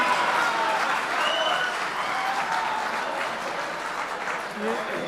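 An audience at a Kavi Sammelan and Mushaira poetry recital in Dubai claps in dense, sustained applause, loud at first and slowly easing, with a voice faintly underneath.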